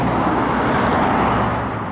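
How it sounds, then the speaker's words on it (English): Cars rush past on a nearby road in a dense, loud wash of tire and engine noise that swells slightly and then eases, with no voices. "there's definitely more motion blur as those cars go by"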